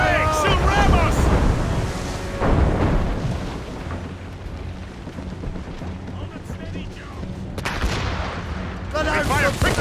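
Ship cannon fire in Assassin's Creed Rogue, heavy broadside booms and rumbling blasts over churning sea and wind during a naval battle, with shouted crew voices at the start and end.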